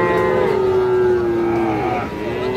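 A cattle calf, a Friesian or crossbred bull calf at a busy livestock market in Raniganj, gives one long, loud, nearby moo that holds steady, then dips and trails off.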